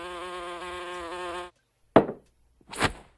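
A cartoon fly gives a steady, close, high-pitched buzz for about a second and a half, then cuts off. Two sharp thuds follow after short pauses.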